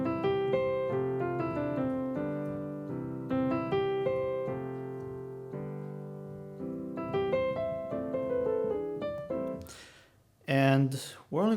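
Solo piano plays the opening of a Christmas song in sustained chords and a melodic line, close and clear. A brief spoken voice follows at the end.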